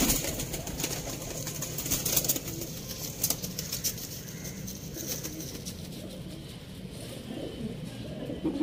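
Ferozpuri pigeons coo softly at close range with repeated low, rolling calls over a faint background hiss and a few scattered clicks and rustles.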